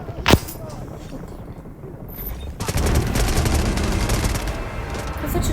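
A video game sniper rifle fires one sharp crack near the start, followed by a stretch of quieter ambience and then a dense, sustained burst of rapid gunfire.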